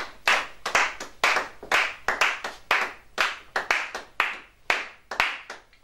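Church congregation clapping to acclaim Jesus, a series of loud rhythmic clap bursts repeating evenly, each swelling and fading, close and without voices.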